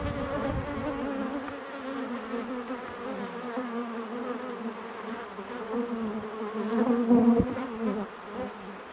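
Honey bees buzz steadily around an open hive during a beetle inspection, a dense continuous hum close by that swells briefly louder near the end.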